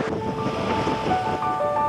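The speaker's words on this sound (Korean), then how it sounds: "끝없이 펼쳐진 수평선과 하얗게 부서지는 파도" Wind-driven waves breaking on the shore of a mountain-ringed lake in winter, a steady, loud wash of surf with wind buffeting the microphone throughout, no voices.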